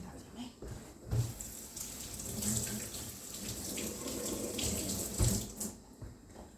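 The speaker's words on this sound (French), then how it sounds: "Je vais laver les mains." Tap water runs steadily from a faucet into a sink while hands are washed, a continuous splashing flow with small changes in tone as the hands move under the stream.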